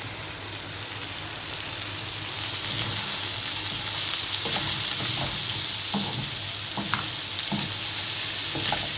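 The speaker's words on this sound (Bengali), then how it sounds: "তেলটা দিয়ে একটু তেলের মধ্যে বেশ ভাজা ভাজা করে নেব" Chanda fish frying in white oil in a pan, a steady sizzle with stirring scrapes and small pops throughout, close and continuous with no talk.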